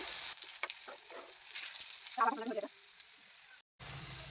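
Banana box snacks fry in oil with a soft, quiet sizzle and hiss. Faint crackles and a brief louder bubbling burst come partway through, and the sound cuts out briefly near the end.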